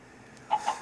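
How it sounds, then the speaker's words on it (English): Chickens in a survival video game cluck in three short, clear bursts over a quiet background. "You see, there's chickens around here. They're just noisy, noisy."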